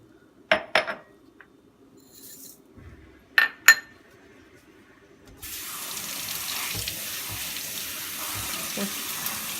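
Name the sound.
washing lentils and rice together in a pot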